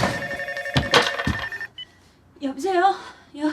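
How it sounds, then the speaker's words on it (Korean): A telephone rings with a bright electronic trill in a couple of bursts, followed by a short pause and a voice speaking. "집에서 울리는 전화에 다급히 뛰어들어오는 시내"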